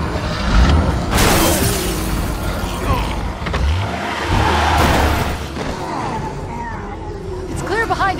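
A car in Resident Evil 6 starts up and revs, with engine rumble, thumps and a shattering crash mixed in, and voices talking over the noise.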